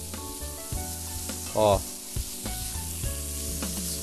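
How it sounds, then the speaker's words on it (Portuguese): Diced bacon sizzles steadily in the bottom of a pot, with stirring clatter and scraping over the constant frying crackle and a brief voice in the middle. "Vou colocar no fundo de uma panela pra dar uma fritada nesse bacon."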